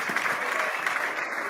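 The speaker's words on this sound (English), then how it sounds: "Round of applause from Bud." An audience at a live charity auction for Night for Nature applauds after a winning bid, a brief, even wash of clapping that holds steady from start to finish.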